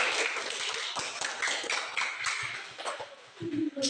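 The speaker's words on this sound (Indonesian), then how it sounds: "Tepuk tangan dulu untuk mereka" Students in a classroom clap for a presenting group in a steady, moderately loud round of applause. Scattered voices and a few louder close claps come in toward the end.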